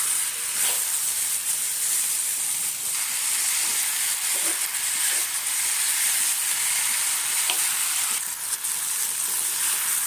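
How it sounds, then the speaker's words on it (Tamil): Jackfruit curry masala sizzles steadily in a hot pan while being stirred, a constant bright frying hiss broken by occasional soft scrapes, close and without talk. "எல்லாத்தையும் சேர்த்து நல்லா கலந்து விட்டுக்கலாம்."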